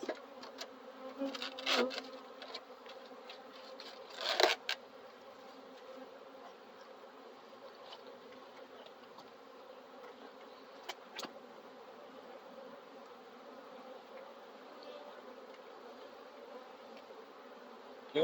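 Bees or wasps buzzing steadily close to the microphone while someone handles a hive in gloves and gets stung, a dense droning hum throughout with a few louder bursts near the start and a brief knock.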